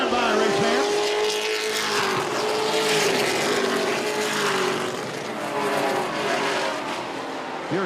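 Race cars in the Affordable 250 lap the track in mid-race, their engines roaring loud and continuous as the pack sweeps past. The pitch swells and dips as the cars go by, with a dense wash of engine and track noise throughout.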